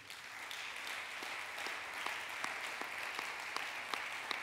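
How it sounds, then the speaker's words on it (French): A church congregation applauds for Jesus during a sermon, a dense, steady wash of clapping from many hands with a few sharper individual claps standing out, sustained evenly for several seconds. "Acclame pour Jésus."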